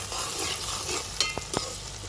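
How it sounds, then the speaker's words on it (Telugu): Onions and ginger paste fry in a pan with a steady soft sizzle, broken by a couple of brief scraping stirs near the end. "ఉల్లిపాయ ముక్కలు మగ్గినాయి కదండి, ఇక 1 స్పూన్ అల్లం వేస్తున్నాను."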